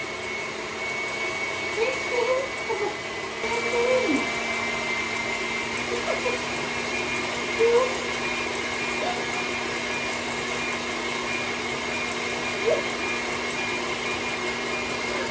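An electric mixer with a whisk attachment whipping cream in a bowl, a steady close motor whir with a faint tonal hum running throughout, brief louder bumps and a voice talking briefly over it.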